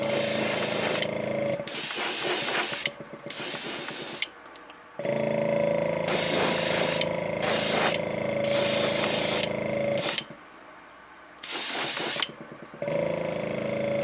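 Airbrush spray painting a green and chartreuse coat onto a crawfish-pattern fishing lure, repeated steady hissing bursts of a second or two separated by brief pauses, close and loud, no speech.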